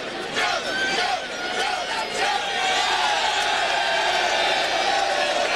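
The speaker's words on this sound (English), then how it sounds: "The crowd now starting to chant for Joe Theismann." Stadium crowd at a 1999 Raiders at Titans NFL football game, a dense continuous roar of chanting and shouting that holds steady and loud throughout with no break.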